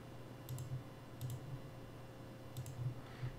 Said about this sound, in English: Click on that point and click on my other quad